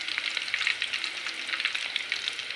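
Battered mushrooms double-fry in hot oil for chilli mushroom, producing a close, steady crackling sizzle with soft stirring, alone and unbroken.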